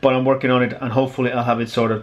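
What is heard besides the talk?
No everyday noise stands out behind the speech.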